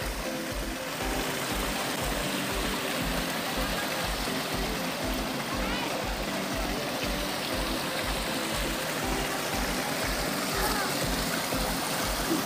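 Water flows at Puray Falls, a steady rushing stream with a continuous broadband wash and a faint rhythmic low thumping underneath, with no talk over it.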